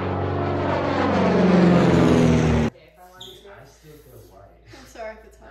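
A voice imitates an airplane engine while feeding, a loud sustained droning hum that runs for about two and a half seconds, then cuts off into quieter talk and small sounds.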